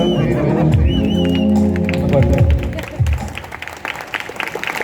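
Roughly fifteen listeners clap for a singer after he sings a Tamil song. The last sung notes fade out, then a short burst of scattered, close applause follows for about two seconds.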